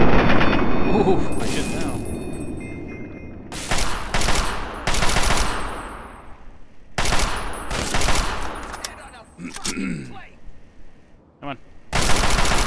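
Bursts of rapid gunfire in Fallout 3 come in several loud volleys separated by short gaps, with a voice speaking briefly between them.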